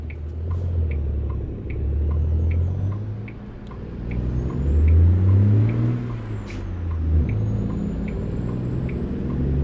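Truck engine in American Truck Simulator revving up through the gears, a loud low diesel drone rising and falling in pitch with a faint periodic ticking, alone with no talk.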